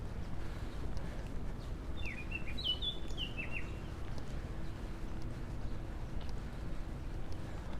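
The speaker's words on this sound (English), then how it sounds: "Really incredible bird sounds up here." Several birds sing in a New York City park, a short burst of bright chirps and trills at a moderate distance over a steady outdoor hum of city background noise.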